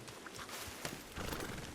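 A horse approaches after being whistled for in the video game Red Dead Redemption 2, its hooves clip-clopping in a steady rhythm against a busy background of game sound.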